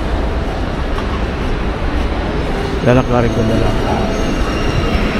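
A train at a platform in Germany, a station serving trains to Düsseldorf, with steady rail and station rumble throughout and a brief squealing wheel or brake tone near the middle, heard under someone speaking.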